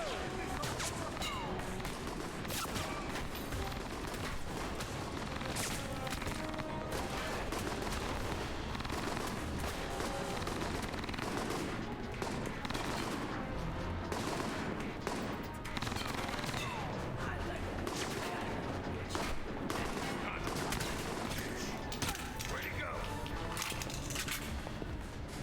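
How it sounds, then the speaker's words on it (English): Gunfire in the video game Alpha Protocol, with dense, continuous shots and impacts over a loud game soundtrack, and voices talking intermittently throughout. "Who's shooting at me?"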